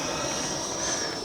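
A Red Arrows model EDF jet plane takes off, its electric ducted fan giving a loud, steady rushing roar with a high whine held throughout.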